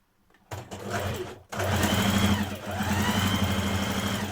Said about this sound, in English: so I'm going to sew that together now.